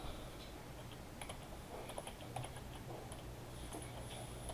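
Typing on a computer keyboard while naming a new Microsoft Access database, soft scattered key clicks at a quiet, steady level against low room hum, with no talking.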